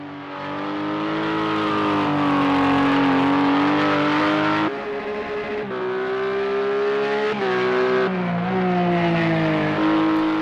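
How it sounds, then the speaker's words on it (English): Radical RXC Turbo race car in the Project CARS 2 video game, a loud sustained engine drone that climbs through the revs, drops sharply at gear changes and rises again across several shifts, with no voices. "this Radical RXC Turbo is fantastic"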